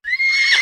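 A single short horse neigh, bright and close, rising into a quick whinny lasting under a second and heard alone as a sound effect.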